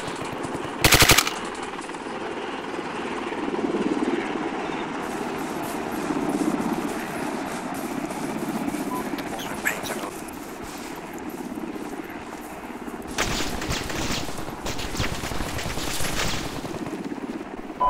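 Bursts of machine-gun fire from a hill in a video game rattle loudly over a rumbling battlefield, with a sharp volley near the start and another sustained burst near the end.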